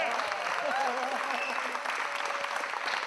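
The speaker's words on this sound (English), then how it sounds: "let's have a big thank you and round of applause to our guest director today" Loud applause from an audience fills the moment, with a few voices calling out over the clapping.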